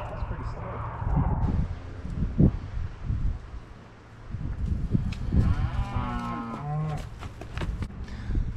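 Cows and calves moo repeatedly in a barn pen during weaning, several loud nearby calls overlapping amid rustling and shuffling, with a voice also present.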